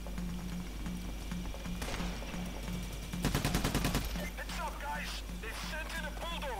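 Rapid gunfire rattles in bursts during a bank heist in PayDay: The Heist, with a sniper among the shooters, mixed with game effects and a player speaking.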